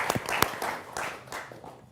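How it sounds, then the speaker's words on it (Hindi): Audience applause at a televised panel discussion on civil law, a short burst of scattered clapping at moderate distance that thins and fades within two seconds. "तो आपके लिए भी जोरदार तालियां"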